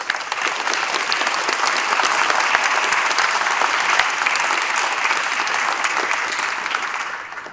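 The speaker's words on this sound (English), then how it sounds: "So I'd like to give them a round of applause" Applause for cadets at an ROTC commissioning ceremony, a sustained, loud crowd of clapping hands that rises quickly and holds steady before easing slightly at the close.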